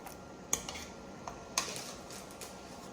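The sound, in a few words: slotted spoon lifting snap peas into ice bath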